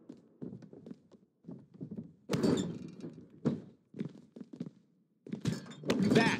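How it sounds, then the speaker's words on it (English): Heavy body slams and crashing impacts from a power bomb in the wrestling game WWE 2K20, during a women's ladder match, landing as several loud thuds with broadband bursts between quieter bumps. "Power bomb!"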